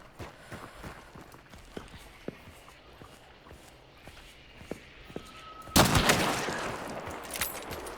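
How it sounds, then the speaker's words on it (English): Sparse, faint gunshots pop at a distance in a Hunt: Showdown battle, scattered irregularly amid soft footstep-like ticks, then a louder burst of noise swells up near the end. "So I do hear a battle, or I hear shots."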